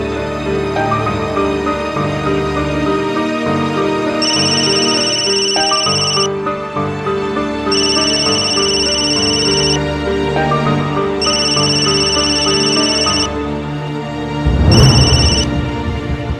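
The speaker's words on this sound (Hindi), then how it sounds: "रिंग जा रही" A phone rings repeatedly during an outgoing call in a Hindi TV serial scene, bursts of ringing tone repeating in a steady pattern over background music, ending with a louder thump.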